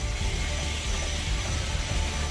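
Helicopter after an emergency landing in front of a small shop, its rotor blades still spinning, giving a steady, continuous low mechanical roar and whine with no pauses.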